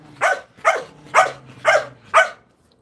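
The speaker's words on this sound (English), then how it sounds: "I don't know what my dogs are barking at" Five sharp dog barks in a steady rhythm, evenly spaced about half a second apart, fairly close and loud, then quiet.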